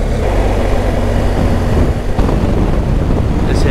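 Strong mountain wind at a ski resort buffets a GoPro microphone, a loud, continuous low roar and rumble with no clear pauses.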